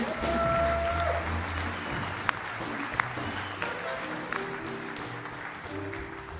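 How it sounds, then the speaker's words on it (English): Applause from a jazz orchestra audience for the trombone section, fairly soft and spread out, with a sustained tone at the start and a few sharp individual claps standing out as it fades. "Don't give these guys too much applause"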